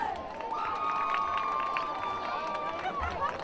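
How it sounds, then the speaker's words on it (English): Crowd in the stands at a Hornell Red Raiders at Wellsville Lions varsity high school football game chants a cheer led by cheerleaders, a sustained mix of many voices at moderate distance with a whistle-like tone running through. "Cheerleaders up in the stands leading the crowd in a cheer."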